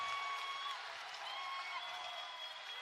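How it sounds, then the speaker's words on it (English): A home crowd at a UW-Eau Claire vs. Gustavus Adolphus college basketball game keeps up sustained cheering and applause, a constant roar with some thin, high whistle-like tones running through it. "Got the home crowd excited."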